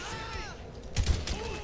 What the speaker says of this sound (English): I'm hearing more gunshots down over that way.